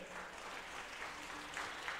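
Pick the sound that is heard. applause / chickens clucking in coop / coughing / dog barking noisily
applause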